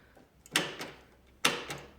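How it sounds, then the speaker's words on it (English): Electric door lock actuator on a Porsche 986/996 firing with the door open: two sharp mechanical clunks about a second apart, each followed by a short rattle, close and fairly loud. "Well, it just attempted to lock the door, but the door is open."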